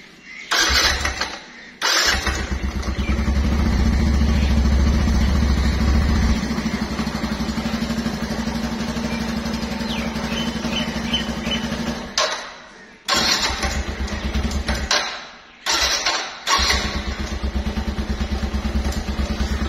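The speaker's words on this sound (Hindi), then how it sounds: "मोटरसाइकिल जरा ठर खड़ देना ना ठंडे से जरा जरा मोटरसाइकिल गर्म करना पड़ेगा ना।" On a cold morning a motorcycle engine is cranked several times, catches and idles loudly up close, cutting out and restarting in short bursts as it warms.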